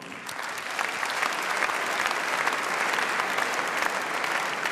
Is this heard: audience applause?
yes